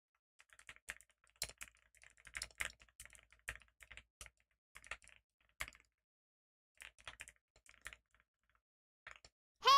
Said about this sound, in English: I just typed this in all caps